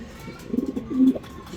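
Racing pigeons coo softly close by, a few low throaty rolls with a brief voice in the background.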